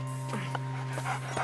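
A large dog pants and gives a few soft whimpers close by, with brief breathy bursts over a steady low hum in the background.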